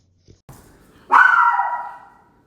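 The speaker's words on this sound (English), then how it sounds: "stop barking!" A single dog gives a few faint soft sounds and then one loud, drawn-out bark or howl-like yelp that fades over about a second, close by in an otherwise quiet room.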